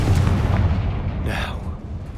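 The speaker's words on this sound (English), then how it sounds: "Confringo!" A Confringo fire spell blasts in the Hogwarts Legacy video game, a loud booming explosion with a burst of crackling noise midway, sustained and close, with no talk over it.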